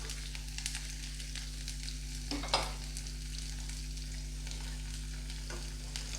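Green chillies and curry leaves frying in a tempering with chana dal for rava idli, giving a steady, crackling sizzle with a few stirring scrapes and a low constant hum underneath.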